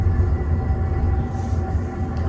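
A US hydraulic elevator with 2,000-pound capacity descends inside the Mount Vernon Square Metro station, giving a steady low rumbling hum with a faint constant tone, continuous and unbroken throughout with no talk.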